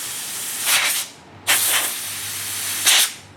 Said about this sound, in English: And the last step here is blow this out with some compressed air.